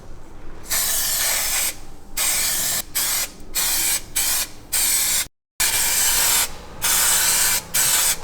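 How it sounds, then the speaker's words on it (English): Bursts of aerosol spray from a shaken can of glue being applied to marked-out knee pad areas, several loud hissing sprays of varying length separated by short pauses, close by with no talk. "give you a can of glue a shake just to make sure it's all mixed up, and then carefully spray where you've marked out for your knee pads"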